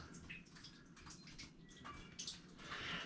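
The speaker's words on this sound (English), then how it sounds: "you can hear the water dripping back there" Water drips inside a Pennsylvania cave, a few faint, scattered plinks echoing from deeper within over a hushed, hollow background.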